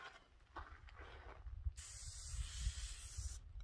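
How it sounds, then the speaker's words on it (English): A handheld spray bottle mists water onto a face inside a minivan camper, giving a steady close hiss that runs for about a second and a half over faint low rumble. "just take it and give your face a spray."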